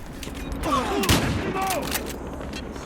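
Gunfire in a Battlefield Hardline multiplayer match: a short, sharp volley of shots crackles near the middle over a busy game soundscape.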